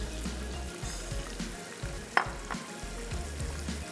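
Biryani masala with tomato puree fries in a pan, giving a steady close sizzle with a low rumble beneath it and a few light stirring scrapes, one sharp clink midway.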